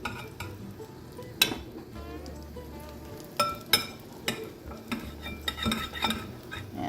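Sriracha chicken pieces drop one by one into a hot pan, giving soft sizzling with sharp clinks of utensil against metal, close and fairly quiet, with no talk.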